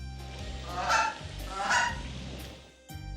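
A goose in an animal detective adventure game honks twice in loud, nasal calls close up, then a third brief honk starts as the clip ends, with no talk.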